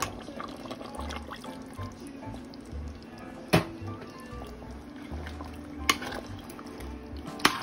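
Water is poured into a pot of menudo stew as it cooks, a splashing, gurgling liquid sound with a few sharp clinks of the pot standing out against a low kitchen hum.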